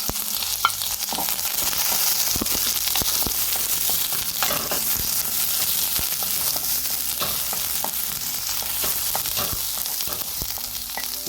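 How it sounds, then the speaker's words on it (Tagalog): Onions fry in oil in a pan for a cabbage dish, giving a loud, steady sizzle with scattered stirring scrapes throughout. "Add tayo ng sibuyas."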